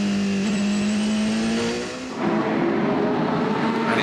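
WEC prototype race cars on the opening lap of the 2017 6 Hours of Nurburgring, a loud, close engine roar at steady high pitch that shifts as a car passes, then continues with a second car's note.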